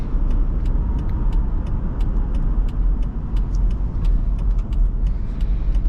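A 2008 Chrysler Aspen with a 5.7L HEMI V8 driving along, a steady loud broadband road and engine rumble heard from inside the cabin, with faint intermittent ticks over the continuous drone.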